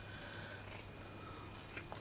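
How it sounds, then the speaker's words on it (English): Scissors snipping through fabric while trimming a circle for a fabric pumpkin craft, a few soft close crisp cuts over a low steady hum. "So I'm just going to follow it around and cut it down."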